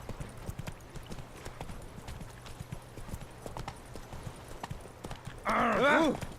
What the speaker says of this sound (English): One final ride home.